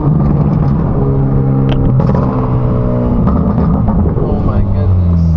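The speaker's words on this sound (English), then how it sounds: "just a mid-pipe, a titanium mid-pipe, the titanium valved exhaust" A Hyundai Elantra N fitted with an SXTH Element valved titanium exhaust and titanium mid-pipe revving loudly up close, a throaty repeated roar with crackles, while a person speaks over it.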